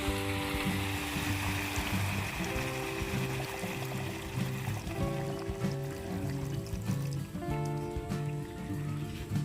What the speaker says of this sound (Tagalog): Tapos sasabawan po natin siya ng pineapple juice.